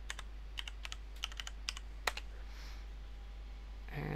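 Password typed on a computer keyboard to log into a Raspberry Pi over SSH: a quick run of close, crisp key clicks in an irregular rhythm, then quiet room tone with no talk.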